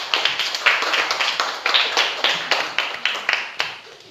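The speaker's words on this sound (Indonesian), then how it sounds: "Sebelumnya tepuk tangan kepada Azel" An audience claps in applause for a child named Azel at a school event, a steady patter of many hands lasting about four seconds with no talking over it.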